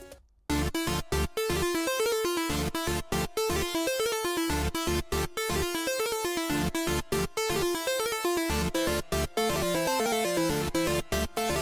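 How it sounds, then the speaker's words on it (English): Bright chiptune Game Boy–style synth plays a bouncy lead over buzzy saw chords, with rapid choppy notes and brief gaps in a steady rhythm. "it's just a Game Boy synth that I use to play the main idea"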